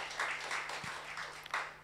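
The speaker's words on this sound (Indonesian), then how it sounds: "Tepuk tangan sekali kepada Tuhan Yesus" A church congregation claps briefly during an Easter service sermon, a soft, fairly distant patter of hands with a low steady hum underneath.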